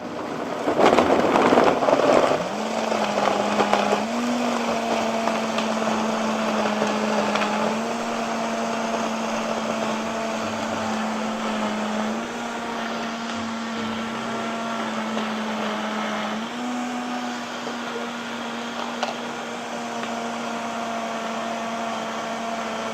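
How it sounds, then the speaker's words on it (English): A kitchen blender whirs through a morning smoothie, a loud steady motor drone that spins up after a brief burst, then runs evenly, stepping up in pitch a couple of times. "So let me get that on my blender here."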